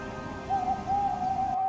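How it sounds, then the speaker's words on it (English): An owl gives a steady, tonal hoot in two drawn-out notes over a low background rumble, moderately loud, with nobody speaking. "Whenever that owl hoots, a mist rolls in"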